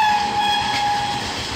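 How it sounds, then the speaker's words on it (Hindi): The 12554 Vaishali SuperFast Express rumbles through Dighwara station without stopping, its horn held as one long steady blare over the loud, continuous roar and clatter of the passing train. "ये रही वैशाली सुपरफास्ट"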